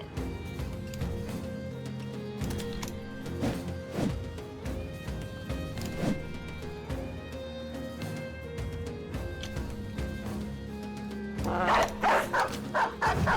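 Dog barking in the video game Battle Brothers, a few sharp barks scattered through busy game music and combat clatter, with a denser burst of noisy hits near the end.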